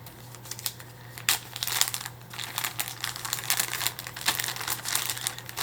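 A specimen is placed into a plastic safety bag, giving close, crisp crinkling and rustling in irregular bursts over a steady low hum, without talking.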